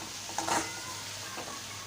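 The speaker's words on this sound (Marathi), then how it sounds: "आता व्यवस्थित आपण मिश्रण एकजीव करून घेऊया" Fenugreek leaf (methi bhaji) mixture being stirred in a pan, giving a couple of soft scraping strokes over a faint, steady sizzle, close up with no voices.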